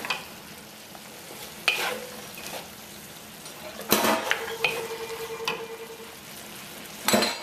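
Beef for a spicy beef noodle stir-fry stirred in a hot pot, with faint steady sizzling broken by several sharp scrapes and clatters of a utensil against the metal, loudest near the middle and end.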